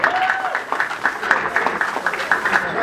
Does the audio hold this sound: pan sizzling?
no